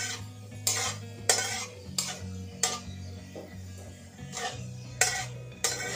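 Taro stolons go into hot oil tempered with nigella seeds and dried chillies, then get stirred in a pan with repeated sharp scrapes and clinks of a utensil against metal, spaced every half second or so under a low steady background.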